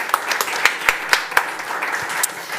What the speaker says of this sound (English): A quick round of applause for our 11 panelists